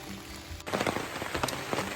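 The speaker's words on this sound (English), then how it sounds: "And it's raining again." Steady rain falling on a new homestead being cleared, pattering densely on surfaces and a sunshade, growing louder and closer after a sudden rise, with scattered distinct drops, no voices.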